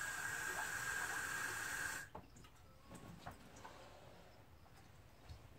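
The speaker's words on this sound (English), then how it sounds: "Add some water." Water pours with a bright, steady hiss into a copper and nitric acid solution for about two seconds, then stops abruptly, leaving faint clinks and handling noises.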